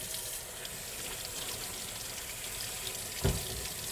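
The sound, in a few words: zucchini being rinsed under running tap water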